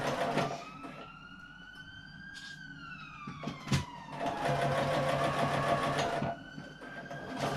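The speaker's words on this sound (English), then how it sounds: "So I'm sewing through all the layers here" A sewing machine stitches through the stacked fabric layers of a small hand sanitizer pouch, its motor whirring steadily and rising and falling in pitch as it speeds up and slows, with a brief pause and clack midway.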